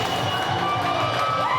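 A packed arena crowd roars and cheers steadily as a 53-year-old kickboxer walks to the ring, a dense continuous wash of voices with music faintly mixed in.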